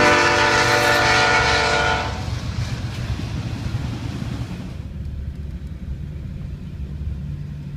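A train passes close by near a river car ferry landing, its loud horn sounding with steady harmonic tones for about two seconds before the horn stops and the heavy rumble and clatter of rail cars carries on.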